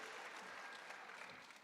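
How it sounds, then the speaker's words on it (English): A brief burst of faint, distant group clapping as an audience at a working lunch event applauds itself. "Let's give ourselves a little round of applause."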